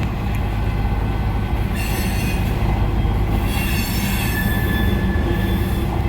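A train's wheels squeal steadily and loudly against the rails with a constant rumbling roar, running alone without any talk.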